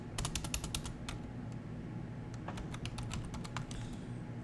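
Quick bursts of typing on a computer keyboard as Linux package-query commands are entered, clicky keystrokes in rapid clusters with a short pause midway, close and fairly quiet with no talk.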